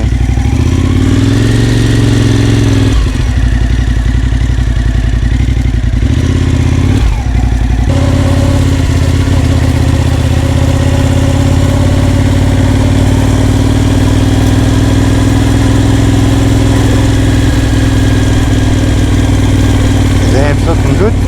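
A Suzuki TL1000R motorcycle engine runs loud and close in a sustained drone that shifts pitch early on, with a brief drop around three and seven seconds, as a voice talks over the roar.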